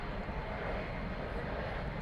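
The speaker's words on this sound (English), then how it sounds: "It's an Airbus A319." An Airbus A319, seventeen years old, taking off at night from runway 18 left at DFW Airport, its engines a steady broadband roar heard from a distance with no pauses and no voices.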